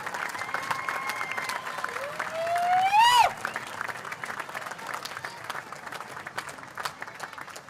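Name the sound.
applause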